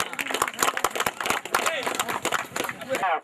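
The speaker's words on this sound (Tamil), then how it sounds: "கைதட்டுங்க எல்லாரும் கொஞ்சம்." An audience claps at a village honouring ceremony where shawls are presented. Sharp, separate hand claps come irregularly and close, mixed with someone talking over a loudspeaker.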